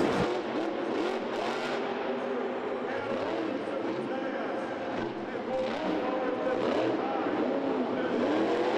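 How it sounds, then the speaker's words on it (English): A monster truck engine revs at a freestyle event in Detroit, its throttle rising and falling in an uneven rhythm, loud and close, with announcer talk and crowd noise running throughout. "he's got a little different throttle rhythm than Dennis does"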